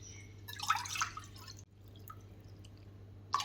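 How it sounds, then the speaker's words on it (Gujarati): Water is poured into a pan on a gas stove, a soft splashy burst lasting about a second, followed by quiet trickling and faint drips over a low steady hum. "આ 2 કપ આપણે પાણી એડ કર્યું છે"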